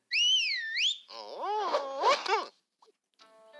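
Whistling cartoon sound effect in a Captains TCG trading-card app animation: a wavering two-tone whistle followed by sliding, warbling swoops, then brief faint blips.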